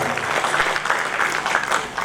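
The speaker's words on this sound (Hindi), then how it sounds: "हम चाहेंगे कि आपका भी जोरदार तालियों के साथ अभिनंदन करें सर।" An audience at an Indian education charity ceremony applauds to welcome a guest, a short burst of dense, even clapping filling the room at moderate loudness.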